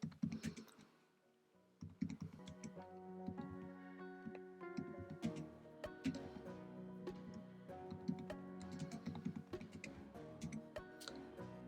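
Light computer keyboard typing while entering paycheck figures into a household budget, a quiet, irregular patter of clicks over soft background music with no talk.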